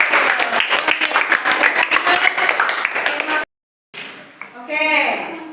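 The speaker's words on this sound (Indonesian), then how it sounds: "tepuk tangan untuk kelompok Facebook" Students in a classroom applaud a presenting group, loud and close rhythmic clapping for about three seconds, then a brief silence before a voice starts talking.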